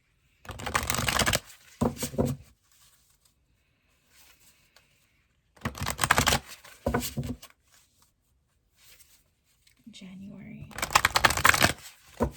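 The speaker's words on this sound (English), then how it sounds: "I'm going to shuffle them real quick" Tarot cards being shuffled in three separate riffling bursts, close and crisp, with quiet pauses between them.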